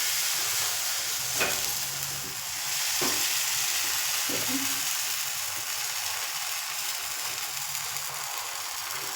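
Gola ruti pitha batter sizzles on a pan over a low flame, a soft continuous hiss broken by a few light clinks and scrapes.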